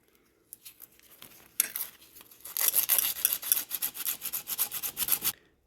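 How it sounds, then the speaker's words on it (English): Coarse 120 grit sandpaper rubs against a plastic seatbelt nub on a BMW E46 3 Series, starting with light scratchy strokes and building into fast, rhythmic, close-up rasping. "I'm going to use some 120 grit sandpaper"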